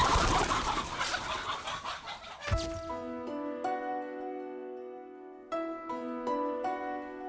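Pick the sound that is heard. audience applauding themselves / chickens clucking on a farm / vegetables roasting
chickens clucking on a farm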